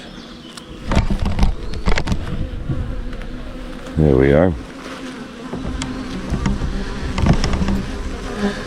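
A dense, steady buzzing of many honey bees around a hive fills the air, with a person speaking briefly, bumping sounds, and one louder bee droning past up close.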